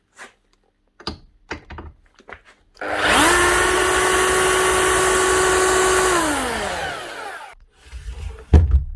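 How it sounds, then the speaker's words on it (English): A Makita HR3000C hammer drill from 2000 spins up loudly and runs steadily for several seconds, drilling freely without any hammer action, then winds down; faint handling knocks come before and a clunk after. "Drill's working fine, just not hammering."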